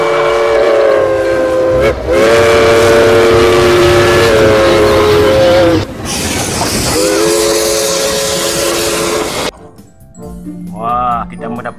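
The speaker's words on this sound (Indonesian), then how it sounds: "Wah, coba lihat kereta apinya mengelilingi mainan teman-teman." A battery toy train circles a layout of toy vehicles, playing loud, steady chugging with repeated whistle toots. The sound cuts off sharply near the end, leaving a quieter, brief tone-like trail.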